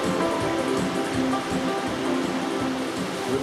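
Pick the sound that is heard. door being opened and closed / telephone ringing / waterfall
waterfall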